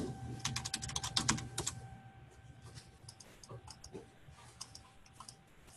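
Computer keyboard typing a short code, a quick close run of crisp key clicks that thins out into a few scattered taps, fairly quiet with a faint steady hum beneath.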